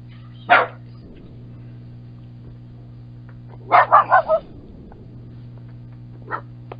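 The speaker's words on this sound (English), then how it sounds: "I got 7 dogs that go crazy." Several dogs bark in short bursts: one sharp bark, then a rapid cluster of four or five barks and a last lone bark, each fairly close and loud over a steady low hum, with no talk.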